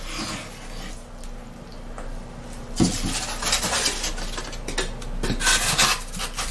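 Glued wooden pieces for a model railway layout bridge are rubbed back and forth, giving soft close scraping and rasping strokes with a few light clinks.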